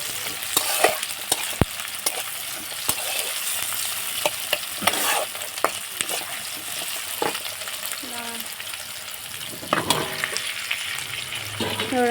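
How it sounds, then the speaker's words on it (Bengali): Fish fat frying in a pan with potatoes stirred in, a steady close sizzle broken by sharp scraping strokes of a spatula and occasional clinks against the pan, with no talking. "মা তেল পোটা ভাজছিল"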